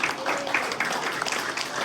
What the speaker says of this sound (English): we give a wonderful round of applause to these wonderful candidates